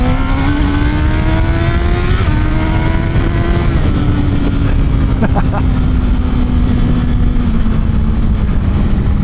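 Honda CBR 1000 RR sport bike without a quick shifter accelerating through manual gear shifts: engine note climbs, drops at each shift and climbs again, loud and close over heavy wind rush.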